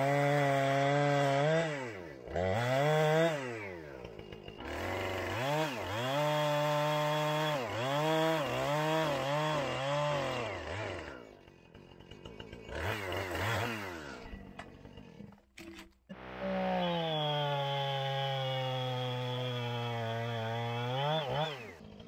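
Chainsaw revving and cutting into wood, loud engine with rising and falling rev sweeps, a stretch of repeated quick revs, a short drop to near idle, then a long steady high-revving cut.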